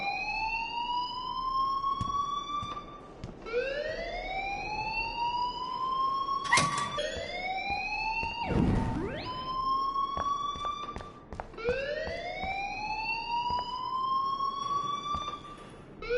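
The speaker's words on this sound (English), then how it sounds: "please turn off that alarm since that's your job." School alarm blaring in Life is Strange, a rising electronic siren that sweeps upward repeatedly in a steady cycle, loud and continuous, with sharp clattering bursts breaking in between.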